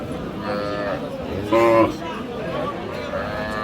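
A Sahiwal cow at a cattle market in Ambari, Dinajpur gives one loud, drawn-out moo midway, rising above a steady background of market crowd noise and distant chatter.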